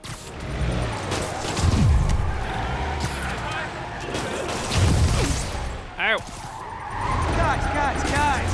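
A truck drives and skids through city streets in the PS4 game Marvel's Spider-Man, with engine roar, squealing tires and bumps rising and falling under game sounds, close and fairly loud.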